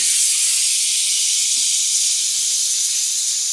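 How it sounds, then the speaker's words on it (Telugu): Dried red chillies fry in a pan for a spicy coconut chutney, giving a steady, fairly loud hiss and sizzle of hot oil throughout with no voices. "ఇది కొంచెం వేపుకుందాం ఎండుమిరపకాయలు కొంచెం బాగా వేగిన తర్వాత"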